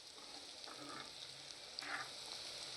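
Chicken frying in a pan for several minutes, a steady soft sizzle with occasional stirring scrapes and brief louder spits, fairly quiet and close with no talk.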